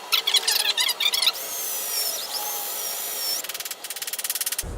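A power drill whirs in short bursts and then a longer run while driving into a pallet wood tabletop frame, with squealing strain from the bit and a rapid ratcheting stutter near the end, close and alone.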